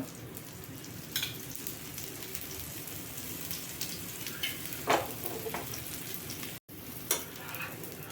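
Batter fries in a pan as oil is poured around its edges, giving a constant crackling sizzle like light rain, with a few louder spatters and scrapes; close and without speech.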